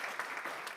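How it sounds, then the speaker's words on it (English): Audience applause for teachers at a county school board meeting: steady, dense clapping from a room full of people, moderately loud and continuous for under a second with no voices over it. "Let's give them all one more round of applause."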